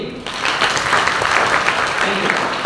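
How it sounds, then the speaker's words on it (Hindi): Students in a Parul University lecture hall applaud a classmate: after a brief voice, loud, dense clapping breaks out and continues steadily to the end. "तो कार्तिक के जोरदार तालियां होनी चाहिए"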